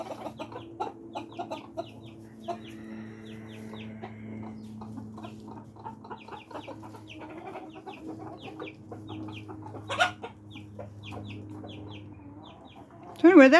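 Silkie chicken flock clucking and chirping steadily, scattered short calls at close range in a coop, with a brief louder burst at the end.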